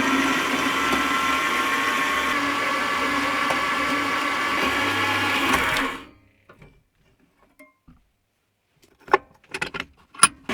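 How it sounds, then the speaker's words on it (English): A bandsaw roughly cuts aluminum blanks to size for split lathe chuck jaws, a steady loud whine for about six seconds that stops abruptly, followed by near silence with a few sharp clanks near the end. "I'm starting with roughly bringing the parts to size on the bandsaw."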